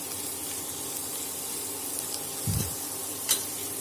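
Onions and green chilies soften in ghee for Kerala ghee rice, making a quiet, even sizzle with a brief stirring thump midway and a small clink near the end.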